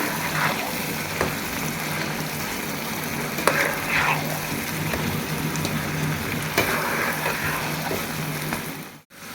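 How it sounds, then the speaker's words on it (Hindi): Mutton frying with boiled drumsticks in a pan, a steady dense sizzle with occasional spatula knocks and stirring strokes, close and fairly loud, cutting off near the end. "उबला हुआ साँझना ऐड कर देंगे। अब 15 से 20 मिनट हम अच्छे से भुनाई कर लेंगे।"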